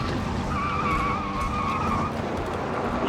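A car skids through a J-turn, tires squealing in a rising, wavering screech for a couple of seconds over a steady engine rumble, fairly close, with no talk.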